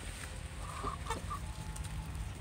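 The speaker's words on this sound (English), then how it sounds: "Big white chicken." A big white chicken clucks on a farm with goats, giving a few soft, short clucks over steady low background noise, not loud and fairly distant, with no talking.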